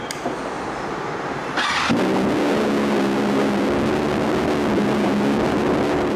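A superbike at a showroom starts up and settles into a steady, throbbing idle, loud and close, with a brief burst of noise as it fires.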